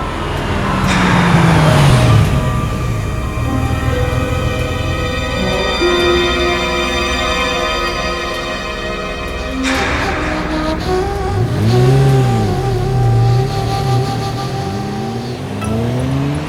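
A car passing close on a road beside a housing-society ground, its engine rising, sweeping past loudly over several seconds, followed by another vehicle's engine drone.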